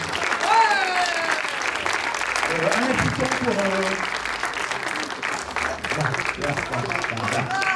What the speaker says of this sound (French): Vous pouvez applaudir, c'est un Dino.